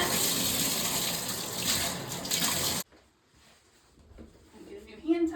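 Tap water runs steadily into a bathroom sink during a quick rinse, a loud broad gush that stops abruptly partway through, followed by quieter handling noises and a brief voice.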